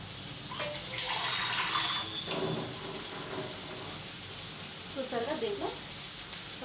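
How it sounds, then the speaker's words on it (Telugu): Water poured into a cooking pot of wilted dal leafy greens, a splashing gush that hisses and sizzles against the hot pan, followed by bubbling and a few clinks, with quiet kitchen noise. "దీంట్లో కొంచెం వాటర్ వేసుకుందాం"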